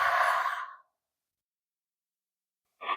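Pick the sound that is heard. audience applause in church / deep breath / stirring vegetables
deep breath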